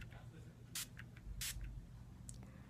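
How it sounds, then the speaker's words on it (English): Urban Decay All Nighter setting spray mists onto a face in two short, bright bursts plus a fainter third puff, close and soft against quiet room noise. "I'm going to be taking the Urban Decay All Nighter Makeup Setting Spray. And I'm just going to be spraying my face with this."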